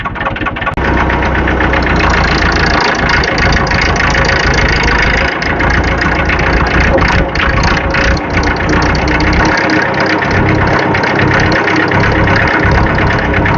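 A restored tractor's diesel engine runs steadily and loudly while driving along a country road in Meath, Ireland, with a constant knocking rumble and vibration throughout and no talk.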